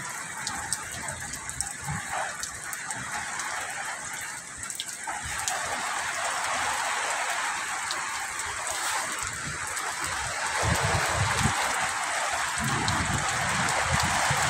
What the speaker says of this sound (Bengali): সেই দেখেন ব্যাপক বৃষ্টি হচ্ছে, মুষলধারে বৃষ্টি হচ্ছে।